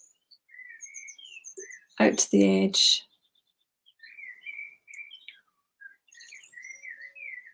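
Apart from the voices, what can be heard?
birds chirping outdoors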